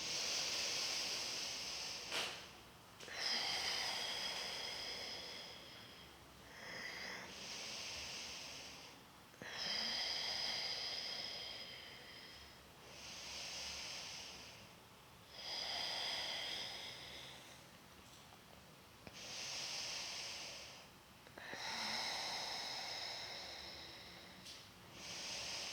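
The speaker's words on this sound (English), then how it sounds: "We'll take another 5 deep breaths here." Slow, deep breaths through the nose during a yoga pose, about five long inhale and exhale cycles with airy hiss, close and soft, no talking.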